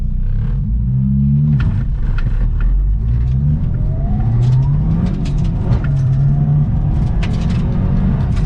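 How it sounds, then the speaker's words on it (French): Mitsubishi car accelerating hard through first and second gear during a driving course, a loud, close engine note climbing in pitch, dipping at the shift, then climbing again. "Première, deuxième et ensuite t'accélères à fond."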